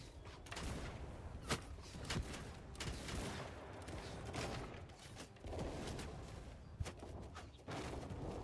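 Musket volleys from a line of gun samurai in Mount & Blade 2 Bannerlord, Shokuho setting, Shimazu troops: repeated sharp, loud cracks of gunfire over continuous battle noise, several distinct shots standing out across the stretch.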